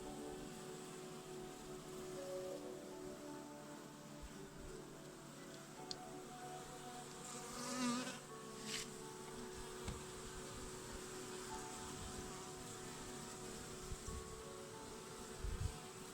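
Honeybees buzzing around an open hive during Buckfast queen introduction, a faint, steady outdoor hum with a brief closer buzz passing by midway.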